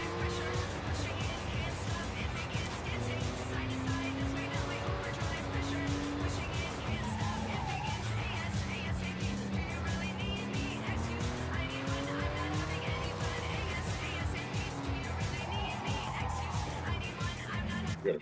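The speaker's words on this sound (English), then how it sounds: "I don't understand why the car spins out so easily." Car spinning out and skidding in the racing video game Forza Horizon 6, with steady engine drone and tire squeal running throughout under frequent overlapping talk and game music.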